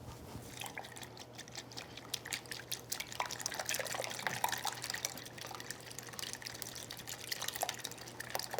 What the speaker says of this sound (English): Let's give that a whisk.